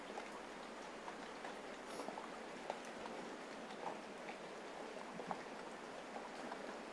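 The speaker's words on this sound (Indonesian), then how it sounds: "sambil ditemani suara rintik-rintik hujan ya, dikarenakan udah 2 hari 2 malam hujan" Light rain pattering steadily in the background during a phone power supply repair, with scattered soft drips and ticks over an even wash of noise, no voices.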